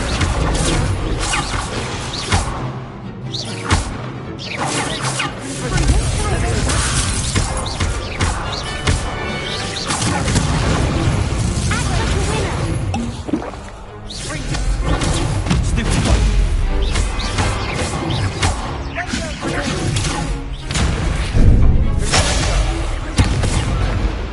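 Spell-casting combat in Hogwarts Legacy, with Incendio fire and Accio pulls, as a dense, continuous barrage of booms, crashes and impacts over game music, loud and layered throughout with no letup.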